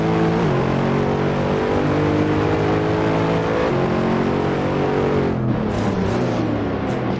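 Race cars lapping Imola in Assetto Corsa, a loud continuous engine drone with shifting harmonic pitch as the pack runs, one engine dropping and rising in tone near the end.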